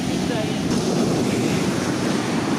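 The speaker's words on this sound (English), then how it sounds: "Look at the waves." Ocean waves roll onto a Norfolk beach in a constant broad roar of surf, with gusty wind buffeting the microphone throughout.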